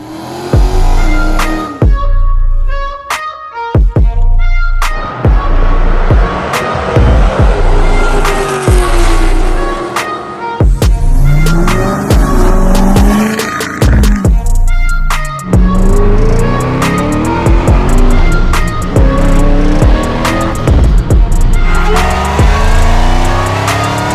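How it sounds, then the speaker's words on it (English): Dodge Charger Scat Pack pulling up nearby, loud engine rumble rising and falling with sharp transient clicks and crunches, ending in a steady close idle. "my buddy Brandon just showed up with the Scat pack"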